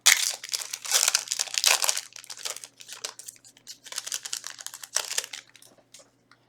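A Yu-Gi-Oh Power of the Elements booster pack is torn open up close: crinkly foil crumples and rustles in dense bursts, easing off briefly before a final burst, with no talk.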